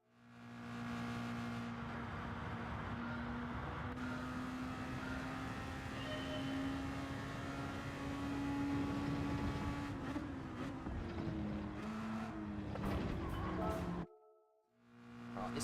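Engine of the X2014 Junior race car in Gran Turismo 7 at the Red Bull Ring, a steady high whine that climbs slowly in pitch through gear changes, with a voice over it before a brief drop near the end.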